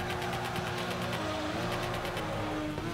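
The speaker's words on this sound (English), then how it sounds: "fourth gear bogs down in this car" A car in the Torque Drift racing game lugging in fourth gear, its engine droning at a flat, unrising pitch, loud and continuous for a few seconds.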